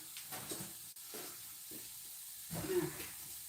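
Bacon frying in a pan gives a soft, continuous sizzle and crackle, with a brief stirring sound near the end, fairly close and without talk.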